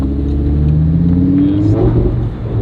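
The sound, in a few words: car engine revving through exhaust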